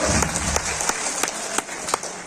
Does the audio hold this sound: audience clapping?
yes